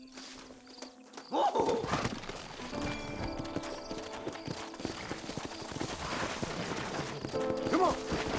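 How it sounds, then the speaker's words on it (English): Horse hooves clip-clop at a quick pace in Red Dead Redemption, close and steady throughout, with a whinny and a shouted exclamation near the start and another call near the end. "Horses are over here!"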